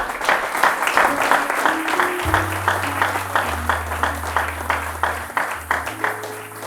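Church congregation applauding the Lord during a French-language sermon, rhythmic clapping throughout with sustained organ or keyboard chords underneath.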